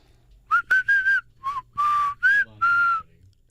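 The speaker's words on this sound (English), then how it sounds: "Looking at Aztec whistles again." Replica Aztec death whistle blown in a studio: a series of short, shrill, piercing blasts, some broken into quick bursts and others held briefly, loud and close against quiet, with no talk.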